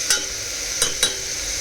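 Ginger, garlic and coriander fry in a pan for a mixed vegetable curry, giving a steady soft sizzle with a few brief stirring scrapes.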